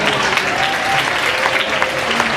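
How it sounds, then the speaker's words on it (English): An audience claps for a group standing on stage, dense continuous applause at steady loudness throughout, with a few crowd voices mixed in. "give them another round of applause"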